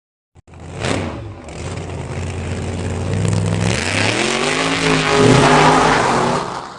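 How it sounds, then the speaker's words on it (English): An old generator engine fitted to a go-kart starts with a pull and runs loud and close, its idle rising into a steady buzzing rev that climbs in pitch and keeps going for several seconds. "this is a new engine for the go-kart"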